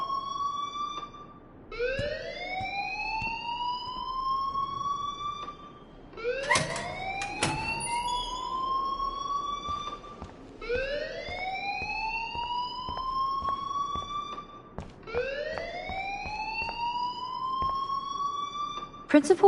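An alarm in the video game Life is Strange wails in repeated rising siren sweeps, each lasting a few seconds before restarting, loud and insistent, with sharp clicks and knocks between cycles.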